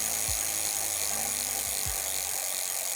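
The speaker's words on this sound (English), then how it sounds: "That's the sound of it just freewheeling" The rear wheel of a Velotric Discover 1 step-through e-bike freewheels with a fast, steady buzzing whir and faint ticking, quiet and close with no talk.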